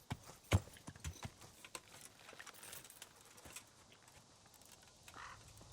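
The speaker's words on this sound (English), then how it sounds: "So let's park the horse over here." Horse hooves clip-clop in the medieval game Kingdom Come: Deliverance, a faint, uneven run of hoof knocks that slows and thins out as the horse comes to a stop.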